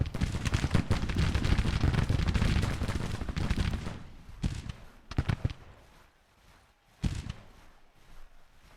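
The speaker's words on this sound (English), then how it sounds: "Garnett's artillery is coming under artillery fire." Artillery and musket gunfire in a Grand Tactician battle, a heavy sustained roar of volleys and booms for the first few seconds, then thinning to scattered distant shots and a few louder cannon blasts.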